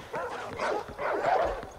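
Dogs barking in the video game Far Cry 4, a few mid-loud yelps and woofs with whiny tones, coming in short bursts close together with no talk over them.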